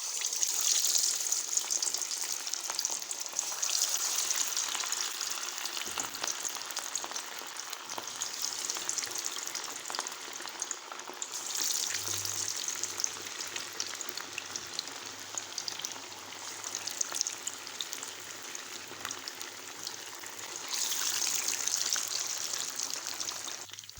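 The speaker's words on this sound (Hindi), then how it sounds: "अब हमने घी गरम कर लिया और इसको अच्छी तरह से फ्राई कर लें।" Fish marinated with soy sauce frying in hot ghee over a low flame gives a steady, even sizzle that runs unbroken throughout, with faint crackles and no voices.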